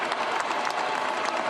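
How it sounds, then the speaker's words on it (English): Arena crowd applauding the Denver Nuggets after the Western Conference Finals, a dense continuous roar of clapping and cheering. "we first have to give a round of applause to the Denver Nuggets"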